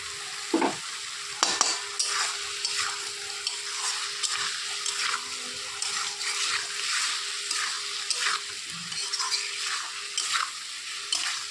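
Eggs sautéing in a pan with chilli powder and salt: a steady, close sizzle runs throughout, broken by a few sharper scrapes and knocks of a spoon stirring, with no voices.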